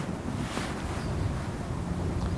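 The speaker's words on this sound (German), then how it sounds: "Es windet ja." Wind gusts across the summit of the Hörnle mountain, a steady rushing roar that buffets the microphone with low rumbling throughout.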